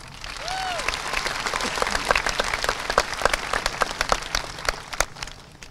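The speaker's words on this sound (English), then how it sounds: "can we get a round of applause for Lace?" A high school graduation crowd applauds, a dense burst of clapping that swells and then thins into scattered sharp claps, heard alone without speech.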